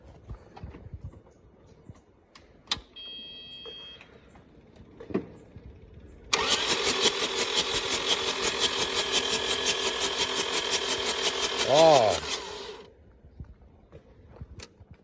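An overturned excavator lying on its side sits quiet with faint clicks, then its engine catches abruptly and runs at a steady, throbbing idle for about six seconds. A short rising whine comes just before it cuts off.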